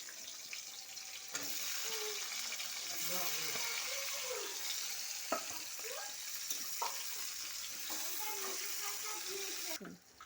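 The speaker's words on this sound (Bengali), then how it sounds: "তেলটা গরম হয়ে গেছে, এতে পেঁয়াজ কুচি তুলে দিচ্ছি।" Chopped onions hit hot mustard oil for a chicken curry, setting off a constant bright sizzle that runs nearly the whole time, with scattered stirring knocks and some voices in the background.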